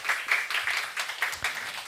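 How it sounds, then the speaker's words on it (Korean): A church congregation gives a short round of blessing applause for a children's curriculum team, steady rhythmic clapping at moderate distance with no voices. "우리 축복의 박수 한번 하도록"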